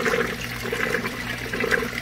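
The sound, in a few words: pond filter water pump cavitating, sucking air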